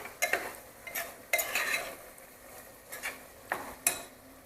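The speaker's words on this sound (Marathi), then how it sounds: "हे परतून घेतो आहे आपण मटणाबरोबर" Mutton being sautéed with powdered spices in a pressure cooker pot, a quiet background sizzle broken by several scraping stirs and clinks of a spoon against the metal, close and intermittent, no talk.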